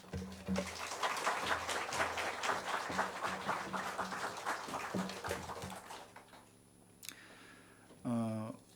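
A church congregation at Sunday worship claps to welcome the pastor, a dense run of applause lasting about six seconds that then drops away to quiet, followed by a brief voice.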